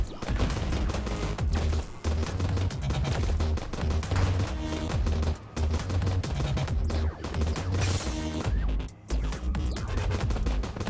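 Dense, continuous volleys of bullets in the video game Starward Rogue, loud and steady for the whole stretch, layered over a thumping, rhythmic game soundtrack.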